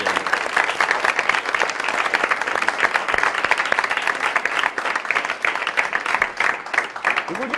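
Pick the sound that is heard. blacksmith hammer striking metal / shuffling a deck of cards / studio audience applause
studio audience applause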